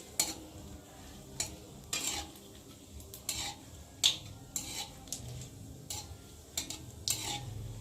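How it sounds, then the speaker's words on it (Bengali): Bay leaves and cumin fry in hot oil with a soft, steady sizzle, while frequent scraping and clinking stir strokes come in an irregular rhythm and nobody speaks. "আর দেবো দুটো তেজপাতা পাতাটা জিরেটা একটু ভালো করে ভেজে দেবো"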